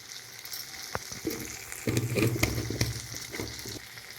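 Spice paste sizzles and fries in hot oil in a pan for a Bengali green pea curry, soft crackling with occasional stirring scrapes, growing busier midway, with no talking.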